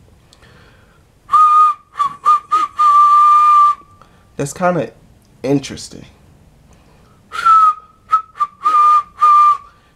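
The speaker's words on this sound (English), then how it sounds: "I can whistle through my tongue" A person whistles through the tongue, giving bright, clear whistled notes in short bursts and sustained runs. Speech is heard in the middle between the bursts.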